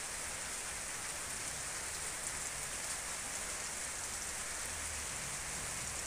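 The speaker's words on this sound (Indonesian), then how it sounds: "Sampai rumah juga masih hujan deras." Heavy rain pours steadily at home after a trip down a hill, a dense, even hiss of drops hitting surfaces that stays constant and fairly close throughout, with no voices.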